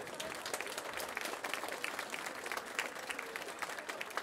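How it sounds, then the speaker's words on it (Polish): Sustained audience applause fills a concert hall at a jubilee concert marking 50 years of the Chełm cement works brass band, a dense, even patter of many hands clapping at moderate distance with no voices over it. "Ogromne brawa dla Państwa!"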